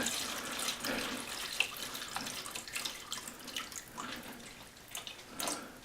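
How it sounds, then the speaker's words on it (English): Warm water runs steadily from a tap into a hydroponics setup, a soft continuous splashing hiss with small drips and gurgles, fairly quiet throughout. "I'm going to add warm water to this thing"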